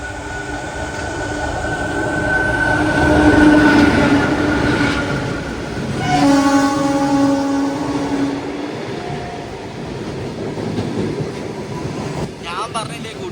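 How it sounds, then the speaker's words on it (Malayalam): A WG7 locomotive hauling a goods train rolls past alongside, a steady loud rumble with rail clatter and brief tonal squeals, swelling and fading over the pass. "ഗുഡ്സ് ആയിരിക്കും, ഗുഡ്സ് പോകുന്ന കണ്ടോ"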